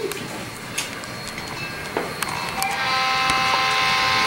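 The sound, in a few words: model train running on a model railroad loop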